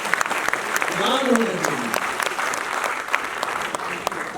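Audience applause at a Guru Samman felicitation ceremony, a steady wash of clapping from a crowd that runs throughout, with a voice speaking briefly over it near the start.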